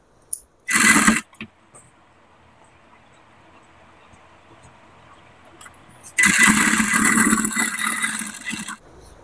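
A sewing machine stitching petticoat fabric, running in a short loud burst, then after a quiet pause a longer steady whirring run.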